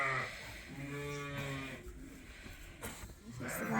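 Sheep being moved on a farm give a low bleat over steady outdoor background noise, heard at moderate distance and fairly faint, followed by rustling movement.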